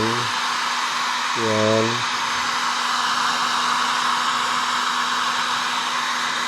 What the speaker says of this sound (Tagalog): i-blow blower mo din magkabilaan.